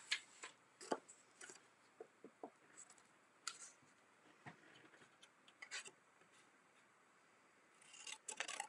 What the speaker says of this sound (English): and then we'll just cut out our cups too.